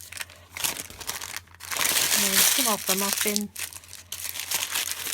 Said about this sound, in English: crumpling up even more. Sorry for the noise.